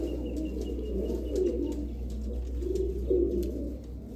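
Royal Teddy and Oman pigeons coo in low, throaty rolling calls that swell and fade in a steady, overlapping rhythm, close by and fairly loud, with faint chirps and a constant low hum underneath.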